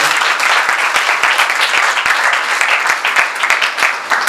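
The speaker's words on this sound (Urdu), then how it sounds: "سو تالیاں بجا دیں۔" A church congregation applauds loudly and steadily, with dense, evenly sustained clapping and no talk over it.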